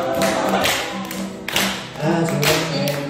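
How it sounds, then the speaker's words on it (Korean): A workshop group claps together in a steady beat to start a Korean worship song, dense and close, with piano accompaniment sounding underneath. "박수!"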